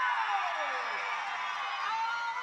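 Children in the crowd at a WNBL basketball game between the Sydney Flames and the Bendigo Spirit let out a sustained high-pitched cheer that fills the arena for a few seconds.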